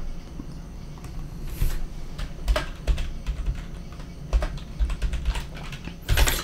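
Computer keyboard typing, a steady run of quick key clicks with a few louder taps, close and alone with no talk.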